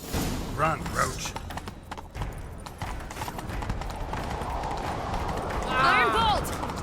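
Hooves pound in a fast galloping rhythm in The Witcher 3: Wild Hunt, with voices calling out and a horse whinny near the end.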